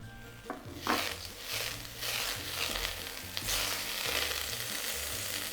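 Butter sizzles and crackles under cooked, slightly wet rice in a pan for a Nyonya-style pineapple fried rice, with a few stirring scrapes and a soft low hum beneath.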